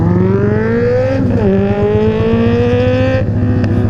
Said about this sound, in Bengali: ভাই আমার বাইকটা এখানে পুরো স্লো করলাম যাতে তোমরা মানে ফ্লাইওভার সাউন্ডের মজাটা যাতে ফিল করতে পারো